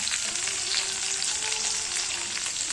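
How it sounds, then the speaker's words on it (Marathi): Onion frying in oil until brown, a dense, even sizzle that holds steady and close for the whole stretch, with light stirring under it and no voices. "चांगला ब्राऊन कलर होईपर्यंत फ्राय करून घ्यायचं आहे."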